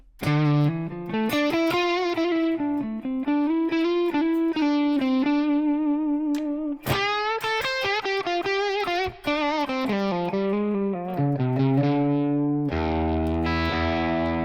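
Electric guitar through a Tonex One Watson Dominator amp model with reverb added, playing sustained, bent single-note melodic lines and chords, loud and close with a lingering tail.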